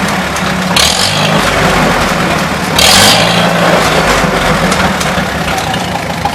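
A 1953 Farmall Super H tractor engine with a freshly adjusted carburetor runs loud and close, rumbling at idle and then revving up twice in smooth surges without stuttering.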